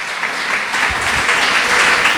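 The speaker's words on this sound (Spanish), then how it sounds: "Den un aplauso a Jesús" A church congregation bursts into applause after a testimony about prayer, dense and loud, sustained clapping filling the room for a couple of seconds with no talk over it.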